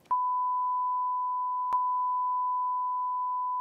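A steady censor bleep, a pure sustained electronic tone lasting several seconds with a brief click partway through, loud and alone.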